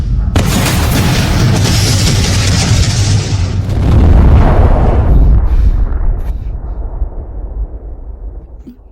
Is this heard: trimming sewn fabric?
no